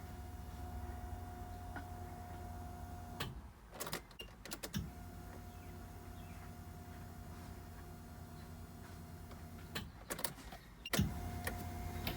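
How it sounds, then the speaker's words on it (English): Fuel pump priming on a Nissan 240SX S14 with an RB20 engine: a steady faint electric hum runs for several seconds, broken by brief clicks and a pause, then starts again. "Let's try and start her up. Prime it a couple times."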